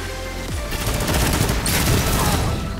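Gunshots in a video game, a dense loud volley of overlapping rapid shots that runs continuously for nearly three seconds.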